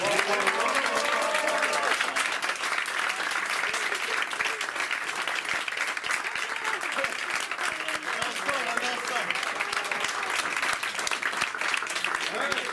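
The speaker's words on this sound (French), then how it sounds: "je te remercie et je t'applaudis." An audience at a community event in Sarcelles, France, applauds in a loud, dense, steady burst of clapping that lasts throughout, with crowd voices mixed in.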